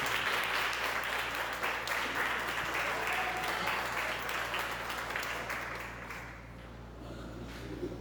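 A church congregation at a Quadrangular evangelical service applauds in a sustained, dense round of clapping that holds steady and then tapers off toward the end.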